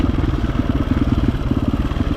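An enduro motorcycle engine runs steadily with a rapid, even low thudding pulse, close and fairly loud, with no voices over it.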